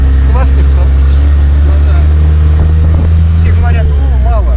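A homemade off-road jeep's engine drones loudly and steadily while driving, a deep continuous rumble with someone talking over it throughout.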